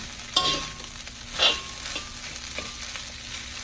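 Fried rice with Vietnamese pork sausage and Chinese sausage stir-fried in a pan, a spatula scraping and breaking up the rice over a steady sizzle, with a couple of louder scrapes standing out.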